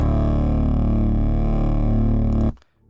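A trap bass in the style of Metro Boomin's Heroes and Villains, run through the Homicide distortion plugin at full wet mix, sustains a dense, harsh, buzzing low tone for over two seconds, then cuts off sharply.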